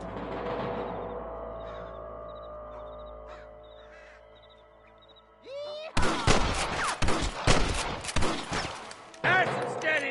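Shootout gunfire in Red Dead Redemption: after quiet crow caws and a voice, a dense volley of loud, sharp gunshots erupts, rapid and close, continuing in bursts to the end with talk mixed in.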